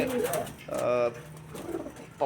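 Red Lotan pigeons coo close by, a few soft throaty rolling calls in quick succession.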